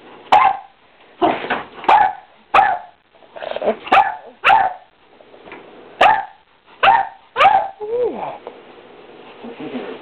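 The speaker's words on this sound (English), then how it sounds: "You funny dog" A dog barks about ten times in sharp, loud, close single barks spaced roughly evenly, with a brief whining yelp near the end and quiet room sound between barks.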